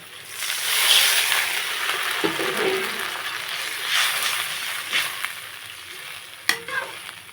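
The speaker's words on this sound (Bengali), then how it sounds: "মশলা খুব ভালো করে কষানো হয়ে গেছে, দিয়ে দেবো পরিমাণ মতো জল" Water poured into well-fried sizzling masala for a spicy koi fish curry, a bright hissing sizzle that swells and splutters with some stirring and a sharp clank near the end, close-up with no speech.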